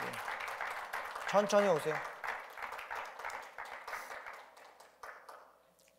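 A church congregation claps in welcome during an Easter service, moderate scattered applause that fades out toward the end, while someone speaks briefly over it.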